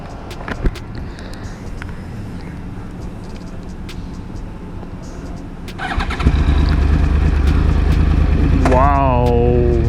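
A Yamaha YZF R1 1000cc crossplane superbike cranks and fires at about six seconds, jumping from quiet background to a loud steady idle with a brief rising rev; close by, with some talk in the quieter stretch before.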